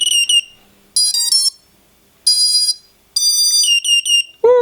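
A DIY FPV racing drone powered by a 3S battery gives loud, shrill electronic beeps in several quick bursts and tone patterns separated by silence, with a short voice sound at the very end.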